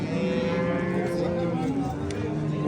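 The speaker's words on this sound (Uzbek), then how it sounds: "O'zimizni jaydari sigirimiz." A local breed cow lows in one long, deep, drawn-out moo at a busy Uzbek livestock market in Yangiqo'rg'on, close and steady with faint crowd noise underneath.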